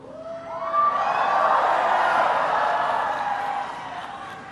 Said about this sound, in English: It's an amazing crowd.